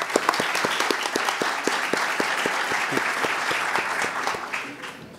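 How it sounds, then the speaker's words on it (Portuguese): An audience at a national digital law congress in Brazil gives a sustained round of applause, with individual claps standing out near the microphone before it tapers off. "Uma salva de palmas aí"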